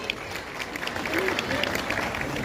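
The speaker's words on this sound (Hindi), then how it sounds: "आप सभी जोरदार तालियां बजाते रहे।" Audience applause at a state award ceremony honouring Sanjhi painting, a steady dense wash of clapping held at an even level throughout, with a faint voice briefly surfacing over it.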